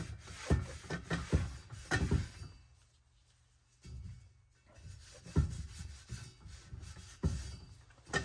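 A rag rubs grease and residue off the metal frame of a 7.5-inch gauge railroad log car. The close, quiet wiping strokes come in bursts with a short pause midway.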